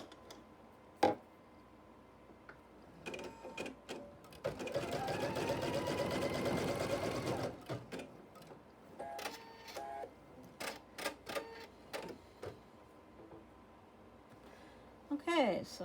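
Domestic sewing machine stitching through a quilted flying geese block, a sustained whirring run of a few seconds amid scattered clicks, taps and handling noises, with quiet speech now and then.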